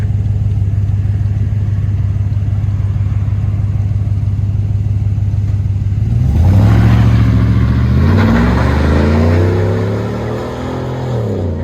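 A 2022 Chevy 2500 HD with a 6.6L V8, fitted with a street muffler, a 3.5-inch exhaust system and a 5-inch tip, rumbles at a steady, deep idle close by, then revs up hard and loud before settling back down.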